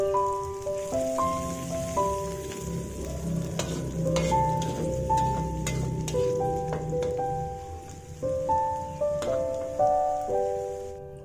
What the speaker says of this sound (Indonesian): Lalu masukkan irisan bawang putih dan bawang merah. Aduk-aduk sampai benar-benar wangi